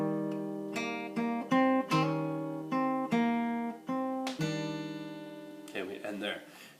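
Fingerstyle acoustic guitar plays the verse of a song, with plucked notes and chords in a steady pattern, some ringing, closing on a strummed flourish, close and clear with no talk.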